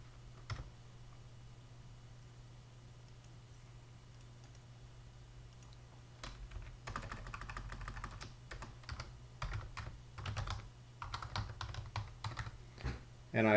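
Keys clatter on a computer keyboard in irregular bursts after a quiet stretch, close and moderately loud over a low steady hum.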